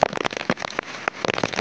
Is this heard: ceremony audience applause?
no